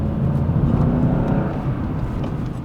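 A Mercedes C55 AMG W203 with its V8 pulls hard under acceleration, a loud, close, continuous low engine roar that holds steady through the moment.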